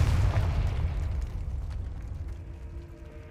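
A Confringo spell explosion in the Hogwarts Legacy video game, a single heavy boom that bursts loudly at the start and then rumbles and fades away over a few seconds.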